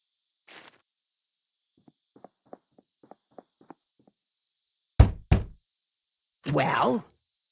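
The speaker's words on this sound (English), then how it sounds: "You're the one who knocked" Knocking on a door in the Slender Threads game: a quiet run of light hollow raps, then two loud sharp knocks, followed by a brief horse-like whinny, all within otherwise quiet surroundings.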